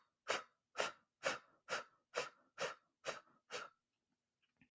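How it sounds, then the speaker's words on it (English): Eight short, forceful breath exhales of fire breath pushed out from the diaphragm in a steady, evenly spaced rhythm, close and breathy, followed by quiet. "you're breathing out short, rapid spurts, pushing the air out through your stomach and your diaphragm"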